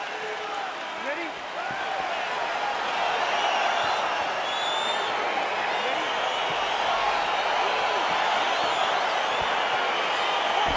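Arena crowd noise from the UFC 4 video game as a bout between Jan Błachowicz and Alexander Gustafsson gets underway, a steady broad roar of cheering that holds at an even level throughout, with faint commentary underneath.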